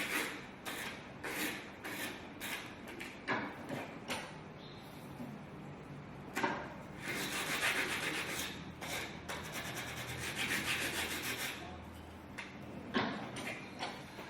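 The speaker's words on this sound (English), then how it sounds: "I'm going to use abrasive paper." Abrasive paper rubbed back and forth on a plastic corner to round it off, a close, quiet scratchy rasp in short rhythmic strokes, with a few brief pauses between bursts.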